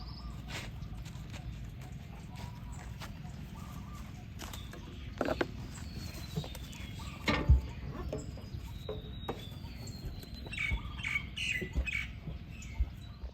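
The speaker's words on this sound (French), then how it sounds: "ce matin, c'était vraiment une ribambelle d'oiseaux" Many birds squawk and chirp in quick overlapping calls across an open outdoor space in Thailand, with a low steady ambient rumble and occasional soft thumps.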